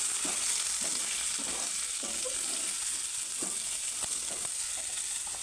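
Drumstick masala fry stirred in a pan, a steady bright sizzle with repeated scraping and clacking strokes of a spatula at a loose rhythm, close and clear, no talking.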